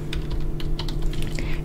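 Rapid, uneven keystrokes on a computer keyboard while writing code for an HTML and Flask web app, close and clear over a steady low hum, with no talking.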